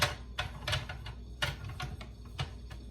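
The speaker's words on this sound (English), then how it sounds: "Then this is the tip and the cap, and it just screws on." Cap being screwed onto a cream whipper dispenser, a run of close, sharp clicking and ratcheting ticks in an uneven rhythm, with no talk.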